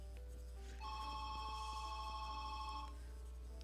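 A telephone rings indoors in a bright electronic tone, one sustained ring burst heard faintly over a steady low hum, before the call goes to an answering machine; no one speaks.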